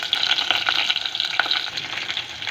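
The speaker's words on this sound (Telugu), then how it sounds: "వెల్లుల్లిపాయల్ని అలాగే ఉల్లిపాయ ముక్కల్ని ఆయిల్లో కొంతసేపు మగ్గనివ్వాలి." Large chunks of onion and about ten peeled garlic cloves fry in hot oil for a spinach onion-chilli dish, giving a close, loud, continuous crackling sizzle with no voices.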